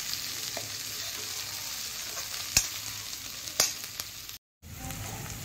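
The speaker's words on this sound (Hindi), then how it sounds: "इसमें धनिया को डाल देंगे और भूनेंगे, अच्छे से मिक्स कर देंगे।" Potatoes and coriander roast in a hot pan with a continuous close sizzle, broken by a couple of sharp stirring scrapes and a brief dropout near the end, with no voices.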